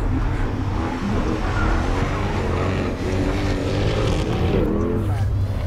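A sports car engine runs hard on a race track lap, a loud, steady roar with rising and falling pitch as it accelerates and shifts.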